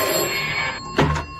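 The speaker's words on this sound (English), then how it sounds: "What was ringing was a payphone." A payphone rings, its bell-like ring building over a steady background and then cutting off in a short burst near the end.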